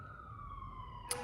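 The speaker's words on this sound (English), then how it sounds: "Sorry about the sirens in the background." A faint emergency vehicle siren wails in the distance outdoors, a single sustained tone gliding slowly downward over low background rumble, with a brief click at the end.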